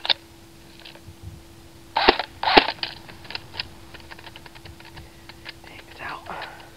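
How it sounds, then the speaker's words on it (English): An electric airsoft gun, able to fire full auto and semi-auto, gives a few sharp mechanical clicks: two louder bursts close together near the middle, then sparse lighter ticks over a quiet background. "Full auto and semi-auto electric airsoft gun."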